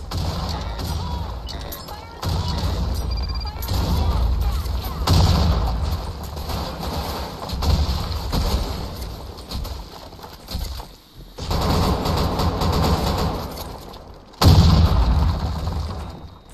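Gunfire from an AWP sniper rifle in a Counter-Strike-style shooter on the Office map, several loud sharp blasts with ringing tails separated by short gaps, up close with faint voices underneath.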